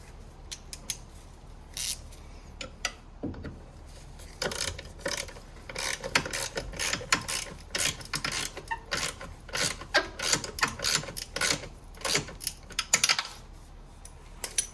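Battery hold-down clamp being tightened on a 2012 Nissan Micra during a battery replacement, close, rapid metallic ratcheting clicks in quick bursts with brief pauses, no talking.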